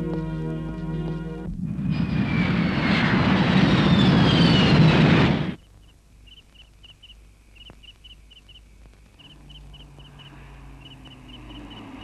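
An airplane roars loudly as it flies past, a dense sustained engine rumble with a whining tone that cuts off suddenly, leaving quiet background with faint chirps.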